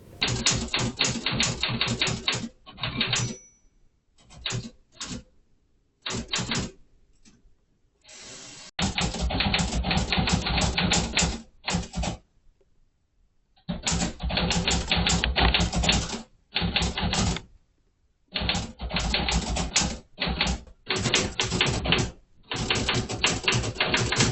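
Steady clacking of typewriter keys in fast runs, broken by short pauses and a few longer gaps, close and loud.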